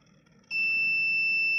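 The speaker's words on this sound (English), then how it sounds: "buzzer is on, and the warning message is like this." The warning buzzer of an ESP8266 driver drowsiness detection system switches on abruptly after a short quiet moment and holds a loud, steady, high electronic tone with no talking.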